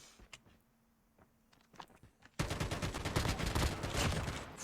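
A burst of automatic gunfire from Call of Duty Mobile erupts midway and rattles on continuously, loud and dense, after a few scattered shots and quieter game sounds.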